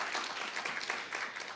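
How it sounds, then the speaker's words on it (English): Audience applauding six young entrepreneurs at an award final, a brief, fairly faint patter of many hands clapping steadily with no talk. "So please give another loud applause for them"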